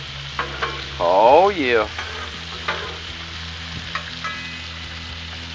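Peppers and onions sizzle and fry in oil while being stirred, a steady close crackle with a louder burst of scraping and stirring midway, and a brief spoken exclamation.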